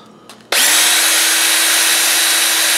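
An electric drill spins up abruptly and holds a loud, steady whine as a wooden piece turning in its chuck is sanded with sandpaper during clock construction, after a few faint handling knocks.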